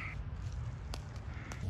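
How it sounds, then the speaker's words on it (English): Large crows cawing outdoors near an old barn, two sharp caws standing out against a steady low background rumble, with no talk. "That's a big ass bird."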